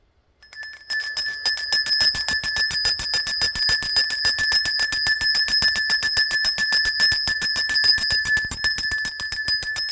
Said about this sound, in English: I am going to count up to 3 before ringing the bell